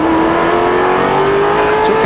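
A race car at the 2004 Subway 500 accelerating, its engine a loud, continuous whine that climbs steadily in pitch as it speeds up.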